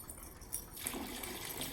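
Pool acid being poured into a running plaster swimming pool, a soft steady trickle and splash over the constant hiss of circulating water, faint and close with no talk.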